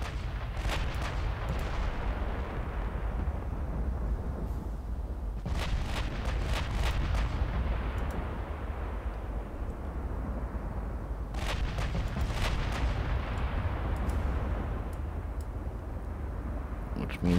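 Big naval guns, including 11-inch guns, fire at long range in the Ultimate Admiral Dreadnoughts naval warfare game, with three loud rumbling salvos spaced about six seconds apart, each a burst of sharp cracks fading into a long deep roar.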